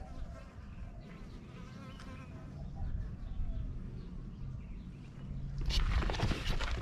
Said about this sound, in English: I got tons of bees on these flowers